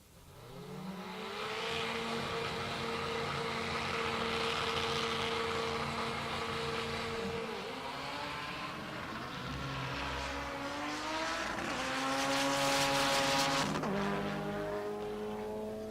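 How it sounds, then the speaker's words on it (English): A Honda Prelude and a Chevrolet Silverado drag race at a motorsports park in Pueblo, Colorado, engines roaring and rising through several gear shifts over a sustained run at moderate distance. "Mario Hernandez is back in the right lane, the Prelude. The left lane, wait for it"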